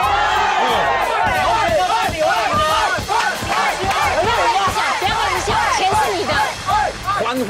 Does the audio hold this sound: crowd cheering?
yes